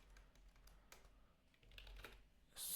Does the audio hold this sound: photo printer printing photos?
no